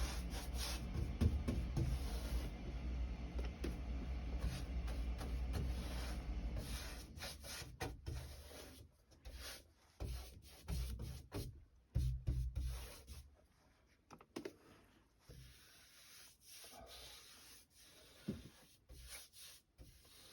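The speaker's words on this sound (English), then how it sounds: "the brush is just able just to glide right over this super dry, absorbent, porous surface." A paint brush glides over the dry, porous surface of a pre-primed panel door with Roman RX-35 primer, making soft repeated rubbing strokes. The strokes start steady and fairly close, then turn intermittent and fainter, with no talk.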